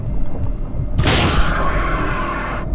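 A pistol fires in the 2000 game Alien vs Predator Classic with a single sharp, loud boom that rings out and decays over a couple of seconds against steady game background noise.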